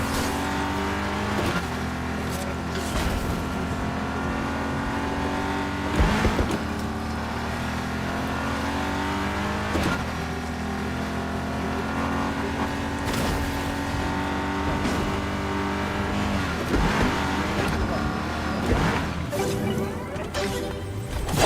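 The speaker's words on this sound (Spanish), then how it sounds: "Es el ruido de un vehículo." Vehicle engine in Fortnite droning continuously while driving, with shifting revs and repeated sharp thumps and bangs from gameplay, loud and alone without talk.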